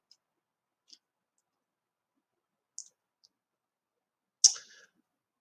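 Computer mouse clicks in a quiet room: a few faint, isolated taps spread out, then one sharper, louder click near the end, with no talk.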